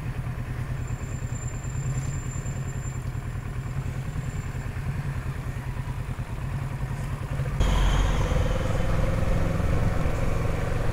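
A big motorcycle engine running steadily on the road, a continuous mid-pitched drone that grows louder and heavier near the end, with no voices.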